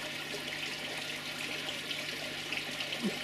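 Small pump-driven waterfall on a garden koi pond gives a steady, close splashing rush of falling water with no one talking.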